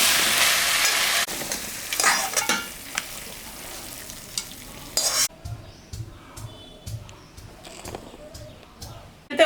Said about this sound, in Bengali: নাড়া দেবো আমি